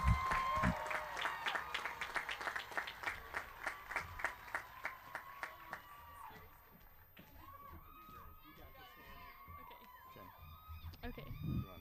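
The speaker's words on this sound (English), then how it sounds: "Please give a big round of applause for Miss Danica Mace." At a high school graduation in Granite Falls, a crowd claps in a rhythmic, evenly spaced beat for the valedictorian, with scattered cheering voices. The clapping gives way to murmuring and the crowd settling, then a brief burst of noise near the end.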